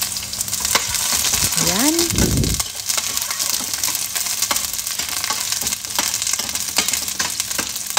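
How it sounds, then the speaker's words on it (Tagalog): Chopped onions sizzle and crackle in hot oil in a pan, a loud close frying hiss that runs steadily with occasional stirring knocks, while a short word is spoken near the start. "igigisa na po natin yung ating sibuyas"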